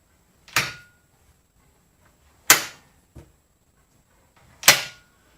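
Three sharp mechanical clacks of a flip-up bathroom door latch in a shuttle bus RV conversion, spaced about two seconds apart, close and crisp, with a faint small click after the second; otherwise quiet.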